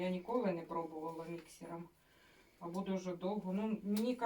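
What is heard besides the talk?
No distinct noise like a dog, phone or traffic.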